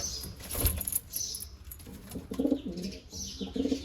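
Full-size pigeon, one dark eye and one white eye, cooing in short repeated bursts at close range, with faint rustling and clinks in the background.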